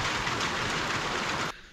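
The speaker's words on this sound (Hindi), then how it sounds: "अभी के टाइम पर बारिश मतलब बंद हो गई है, बंद प्रॉपर नहीं हुई है, अभी हल्की फुल्की हो रही है" Light rain falls in a mountain forest in Uttarakhand, a steady, fairly close hiss of drops on leaves and ground that cuts off abruptly after about a second and a half.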